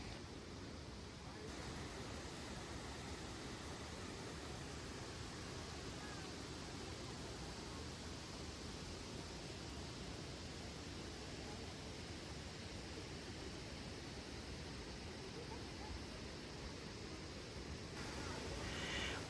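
Tirathgarh waterfall in Bastar plunges about 300 feet down stepped, plate-like rocks, producing a constant broad roaring rush that stays even and unbroken throughout.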